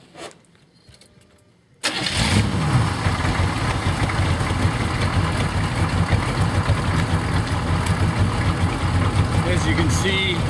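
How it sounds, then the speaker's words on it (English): A 27-year-old diesel engine at operating temperature, fueled by an 80% vegetable oil and 20% turpentine blend, cranks briefly after a quiet start and catches, then runs at a steady, loud, even idle close by. "This is my engine starting up at operating temperature"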